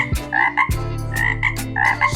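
A frog croaks repeatedly as a story sound effect, a series of loud, close, throaty croaks with a bubbling tonal quality, heard alone without any talking.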